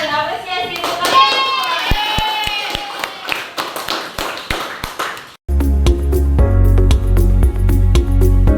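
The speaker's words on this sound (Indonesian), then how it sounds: "beri tepuk tangan dan apresiasi untuk kalian" A class claps for itself, a burst of hand claps under a speaking voice for about five seconds, then a sharp cut to a louder section with a steady low hum and more claps.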